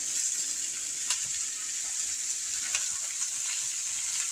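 Homemade sausage sizzles and crackles steadily in a hot pan for a stir fry, a continuous close frying hiss with occasional louder pops and no talking.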